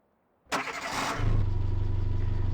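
A tractor engine in a farming simulator game cranks and catches with a burst of noise, then settles into a low, steady rumbling idle.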